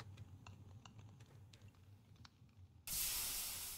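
Faint light clicks and taps give way to a sudden bright hissing sizzle from the video game Pumpkin Manor, signalling a wrong answer, continuing to the end.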